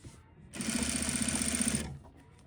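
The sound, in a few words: sewing machine understitching seam allowances and pocket facing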